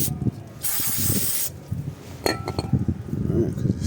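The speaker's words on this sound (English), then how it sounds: "Spray that." A loud, steady aerosol hiss of brake cleaner sprayed on Kia Sorento front brakes blasts for about a second, followed by metallic clinks and voices talking nearby.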